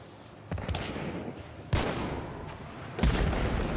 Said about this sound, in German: Ich habe mal das Fass geschossen.